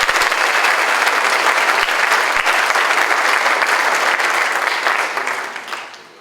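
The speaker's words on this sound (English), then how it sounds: "Please give them a round of applause." Loud, dense applause from an audience at a 2017 senior night award ceremony, sustained evenly before fading out over the last second.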